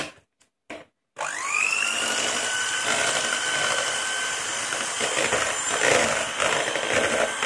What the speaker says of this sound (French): reprendre vos blancs en neige, vos blancs, et les battre en neige avec donc une pincée de sel. Hop. Au batteur électrique.